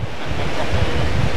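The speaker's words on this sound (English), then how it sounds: "This tide is coming in really fast." Ocean waves wash onto the shore as the tide comes in fast, a steady loud broadband roar with continuous surf and some wind buffeting, no voices.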